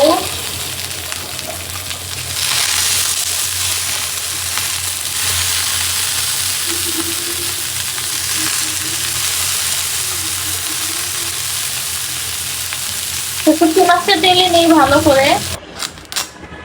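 Dried fish (shutki) fries in a pan with a loud, continuous sizzle and occasional stirring scrapes, close by; near the end a voice speaks briefly over the frying before it cuts off.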